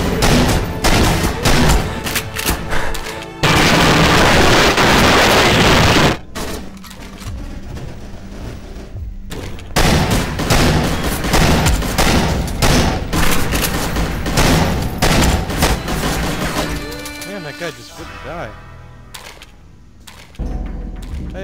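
Dense gunfire from a GoldenEye Source team deathmatch on the Bunker map: loud bursts, a sustained heavy barrage early on, then steady sharp shots and mechanical clatter, close and continuous throughout.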